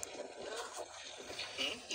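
Low rumbling wind buffeting the microphone in uneven gusts, with faint voices underneath.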